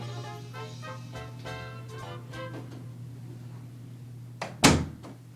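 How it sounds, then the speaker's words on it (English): An interior door swings shut with a single sharp knock near the end, following a few soft creaks and shuffles over a low steady electrical hum, with no talking. "Close the door, son."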